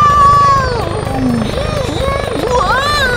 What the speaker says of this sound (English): So then they fly the helicopter.